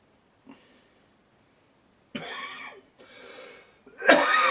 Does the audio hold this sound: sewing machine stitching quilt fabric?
no